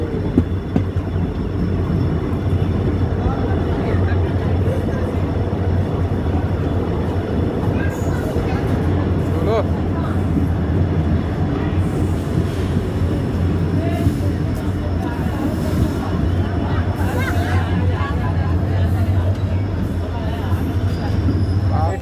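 Interior of the Siliguri Intercity Express hauled by a WDG4D diesel locomotive, a constant heavy rumble of rolling wheels and carriage noise, loud and continuous, with a voice talking over it.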